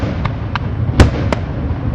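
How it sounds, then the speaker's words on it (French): Fireworks launched from the marina Saint-Louis, several sharp cracking pops, one louder bang near the middle, echoing over a constant low rumble of distant bursts at a moderate distance. "Il y a un feu d'artifice comme ça magnifique pour nous saluer."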